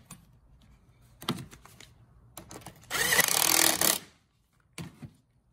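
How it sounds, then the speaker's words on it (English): A 10mm socket ratchets down the negative battery terminal on a Fiat 500 Abarth: scattered metallic clicks, then a dense, rapid burst of ratcheting for about a second, then a few final taps, all close and fairly loud. "Now we're going to tighten this down with a 10mm socket"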